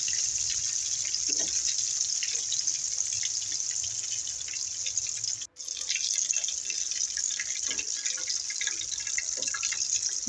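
Broiler chicken pieces frying in oil over low heat, giving a steady, close, continuous sizzling hiss with a brief cut-out midway and no talking.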